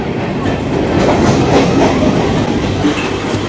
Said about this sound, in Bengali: ট্রেনটা এমনভাবে যাচ্ছে